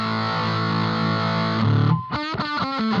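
Electric guitar into a Hotone Britwind Nano Legacy floor rig with the fuzz pedal bypassed, a sustained distorted chord ringing for over a second and a half, then a few shorter picked notes.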